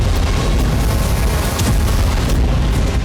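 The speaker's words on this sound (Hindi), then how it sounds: "कभी कामिकाज़े ड्रोन से हो रहा धमाका।" Kamikaze drone blast on a Ukrainian front line in the Russia-Ukraine war, a dense, sustained rumbling boom that fills the whole clip loudly with no voices over it.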